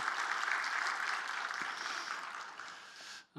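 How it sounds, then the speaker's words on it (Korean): A large church congregation applauding steadily and fairly loudly, a dense wash of clapping that fades near the end before a brief cut. "함께 박수로 다시 한번 큰 격려를 하도록"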